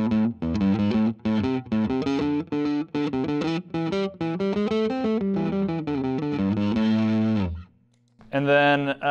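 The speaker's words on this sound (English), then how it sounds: "we could also view this as like electric guitar strings through a P-bass pickup into a guitar amp" A bass guitar strung with electric guitar strings, played through a P-bass pickup into a guitar amp, plucks a quick melodic run of bright, gritty notes, pauses briefly, then starts again.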